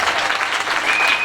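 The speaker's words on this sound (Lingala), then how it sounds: "Qui peut acclamer Jésus?" A church congregation bursts into loud, sustained applause at a French-language worship service, a dense continuous clatter of many hands with a faint cheer near the end.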